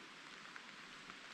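Steady rain falling in a forest beside a river, a soft even hiss of drops on leaves and ground that goes on throughout, with no voices.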